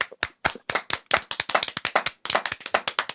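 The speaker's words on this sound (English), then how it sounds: "I'm glad it wasn't a slow clap." A single person's hands clapping quickly and loudly close by, a rapid uneven burst of sharp claps with a couple of brief pauses, no voices.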